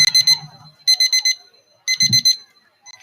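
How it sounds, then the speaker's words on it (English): A buzzer sounds at a rugby league nines match on Palm Island in repeated harsh electronic bursts, loud and close, with a voice briefly heard underneath. "as you hear the buzzer go off now"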